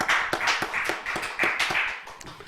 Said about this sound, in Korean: 하나님께 우리 박수, 영광의 박수 올려드리겠습니다